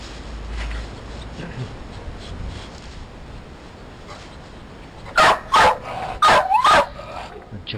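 Quiet background for several seconds, then a dog lets out four sharp, loud barks in two quick pairs close by.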